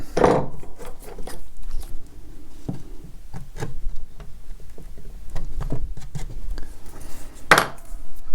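Light hammer taps and rolling knocks as paua shell purfling is pressed into an inlay channel, scattered irregular strikes close by with a couple of sharper louder hits near the start and end.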